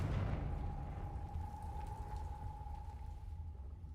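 Confringo blasting curse exploding in a Harry Potter video game: a broad, sustained roaring rumble with a steady low hum, fading slightly toward the end, heard alone.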